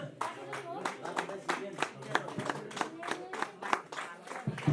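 Audience applause at a Lhochhar festival prize ceremony in Lamjung, with steady scattered clapping running throughout the clip and crowd noise and voices mixed in.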